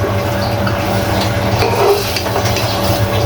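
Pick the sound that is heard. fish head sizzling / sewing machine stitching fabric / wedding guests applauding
fish head sizzling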